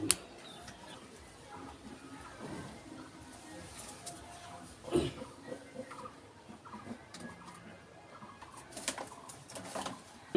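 Low, soft dove cooing repeats now and then against a busy, noisy village background, with a louder knock or clatter partway through.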